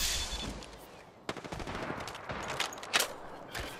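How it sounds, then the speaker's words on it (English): Automatic and rapid gunfire from an opposing squad in the Apex Legends battle royale shooter, arriving as quiet bursts of sharp shots: a dense volley at the start, then scattered cracks and short rattling strings, fairly distant. "Is that the other team finally shooting at you?"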